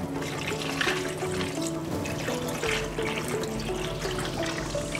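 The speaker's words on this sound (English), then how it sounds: "Now we're gonna do 3 cups of chicken broth." Chicken broth is poured into a pot of gluten-free pasta. The liquid makes a steady splashing, trickling stream up close that runs without a break and is joined by faint tonal background sound.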